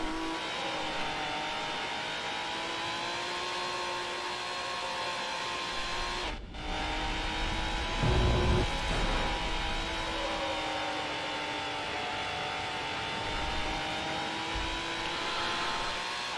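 A racing car in Need for Speed Hot Pursuit 2 drives at sustained high revs, its engine drone steady and loud with a short dip and a low thump midway, over continuous game music.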